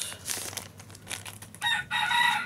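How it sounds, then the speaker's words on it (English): Chickens squawk and cluck nearby, ending in a loud drawn-out crowing call that dominates the last second. "I'm sorry about the chicken noises."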